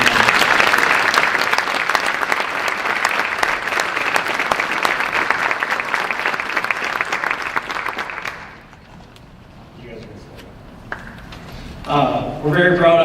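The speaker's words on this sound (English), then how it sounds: "Let's give a round of applause to everyone." An audience at a high school NHS and senior awards ceremony applauds loudly and steadily for about eight seconds before the clapping drops away, followed by a few faint sounds and a voice speaking briefly near the end.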